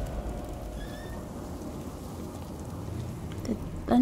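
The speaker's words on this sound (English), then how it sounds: "The thunder." Steady rain with a low thunder rumble in the Sherlock Holmes: The Devil's Daughter video game, a continuous wash of rainfall throughout with a louder burst of sound near the end.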